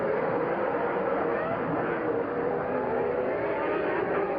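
Formula 1 race cars at the 1990 Brazilian Grand Prix during an overtake, a steady, dense roar of engines heard from a distance with no breaks, muffled and broadcast-quality.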